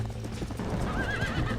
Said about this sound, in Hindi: कोई स्टीयरिंग दो यार इस घोड़े को।